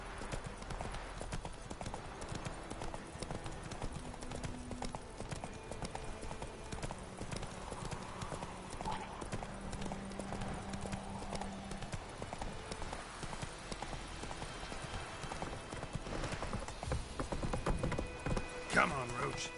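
Roach the horse galloping in The Witcher 3, with steady rhythmic clip-clop hoofbeats running throughout under game dialogue and voices, with a brief whinny possible near the end.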